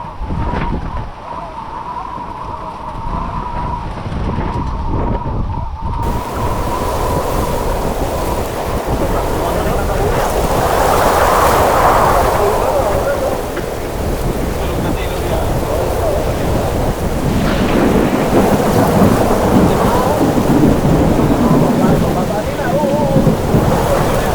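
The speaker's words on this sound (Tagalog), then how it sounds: "sa lakas ng ulan. Malakas din ang hangin." Heavy rain pours steadily while strong wind roars and gusts, a loud unbroken storm at sea with waves surging underneath.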